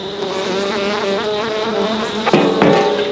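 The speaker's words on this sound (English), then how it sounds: "Oh wow, they got a good hive going." A swarm of honey bees buzzes steadily at a hive, a dense, continuous drone up close with a couple of brief knocks near the end and no talk.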